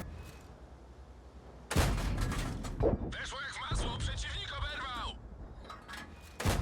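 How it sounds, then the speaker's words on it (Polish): Tank cannon fire in World of Tanks from a Strv 74 aimed at a Churchill: a loud booming shot, a second report about a second later, then another blast at the end, with whirring mechanical game sounds between them. "Przyjechał Churchill, więc strzelam w niego jak tylko najwięcej mogę"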